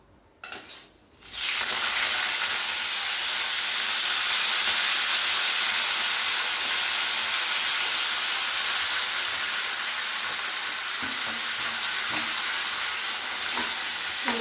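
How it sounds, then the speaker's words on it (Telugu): Curry leaves drop into hot oil for a fish curry, setting off a loud, steady sizzle and hiss that starts abruptly after a quiet moment and continues evenly throughout, with faint pan clinks. "ఆయిల్ మరిపోయింది ముందు కరివేపాకు వేస్తాను"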